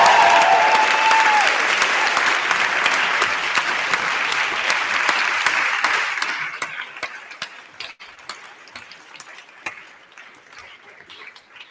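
Audience applause after a lecture at a debate evening fills the room loudly for about six seconds, then thins to scattered individual claps that fade out.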